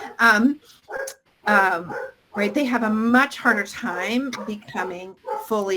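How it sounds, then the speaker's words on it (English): A pet dog barks indoors in short yips between stretches of someone talking, the barks close and intermittent over her speech. "sorry, that's my dog"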